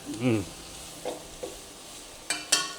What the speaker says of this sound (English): Now we're just going to kick all this stuff around in this pan